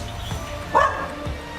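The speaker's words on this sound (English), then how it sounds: "It's my daughter's dog" A small dog gives a single sharp yip or bark indoors, short and fairly close, with faint background noise around it.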